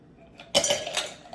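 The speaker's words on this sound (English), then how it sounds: "I'm gonna put a little bit of that ice into my glass" Ice cubes dropped from a shaker into a drinking glass while making a drink, a close, bright clinking clatter that rings on briefly after the first hit, with no talk over it.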